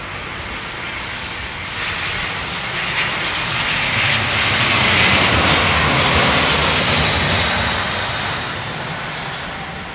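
Jumbo jet engines at London Heathrow Airport roar loudly and steadily, swelling to a peak midway as the aircraft passes fairly close, then easing slightly, with no voices.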